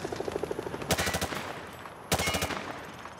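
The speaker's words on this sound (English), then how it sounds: "Grab that weapon off the table and fire at the targets behind you." Rapid automatic gunfire at range targets in Call of Duty Modern Warfare 2 Remastered, two loud close bursts of several shots each, separated by a short quieter gap over steady game background noise.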